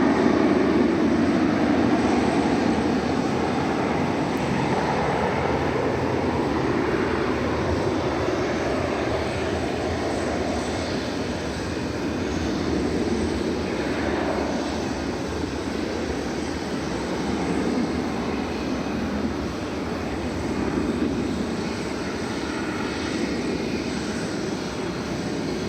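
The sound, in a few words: Airbus A321 starting takeoff roll on runway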